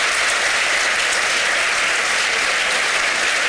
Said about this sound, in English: let's give a round of applause for Mary Kom